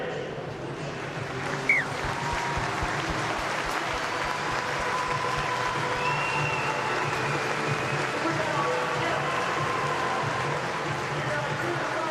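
Large stadium crowd applauding before a Rugby League World Cup 2021 pool match between Lebanon and Ireland, a broad steady wash of clapping and crowd noise sustained throughout, with a faint voice beneath.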